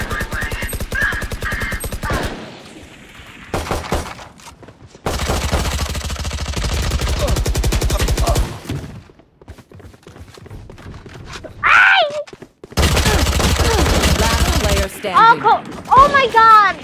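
Gunfire in the video game Valorant: rapid automatic bursts in several separate volleys, loud and close, broken by quieter gaps, with a voice talking in between.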